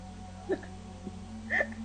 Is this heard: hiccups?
yes